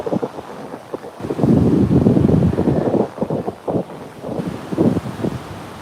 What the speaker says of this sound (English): There's something very therapeutic about the ocean, and just those waves rolling in